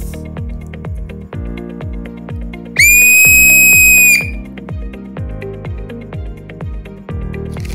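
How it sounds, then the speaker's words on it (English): A single loud, shrill blast of a Seachoice ball-style referee whistle lasting over a second, cutting through rhythmic background music. "We're going to the classic referee style whistle"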